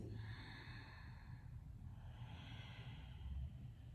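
Slow, deep breaths during a seated yoga twist, a long soft exhale followed by another audible inhale and release, close and quiet.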